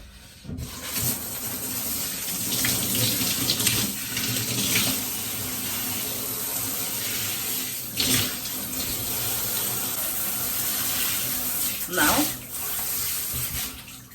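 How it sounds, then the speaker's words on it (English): Tap water runs continuously onto relaxed hair being wetted at a sink, a steady splashing rush with occasional shifts as the hair moves under the stream. "I'm going to start off by wetting my hair"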